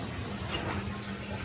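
Water pouring steadily into a bucket as part of a concrete pond filter setup, a constant close splashing rush with no talking.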